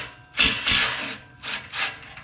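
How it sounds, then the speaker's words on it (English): A power tool with a 15mm socket loosens the band clamps on a Corvette's AWE exhaust, giving four short whirring bursts in quick succession. "We're gonna go ahead and release the band clamps."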